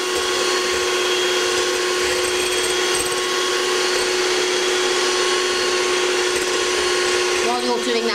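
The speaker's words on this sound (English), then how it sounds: "We'll keep moving the beaters around in the bowl just to gather all the egg whites in." Electric beaters whisk egg whites in a bowl for chocolate mousse, a loud continuous motor whine with a steady tone and whirring that does not let up, close and filling the whole stretch with no pauses.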